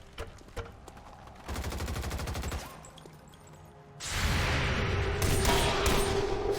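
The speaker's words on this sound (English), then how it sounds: "Nice with the return fire" Gunfire from the video game XCOM 2: a rapid automatic burst, a short lull, then a longer, louder stretch of sustained firing with heavy booming impacts.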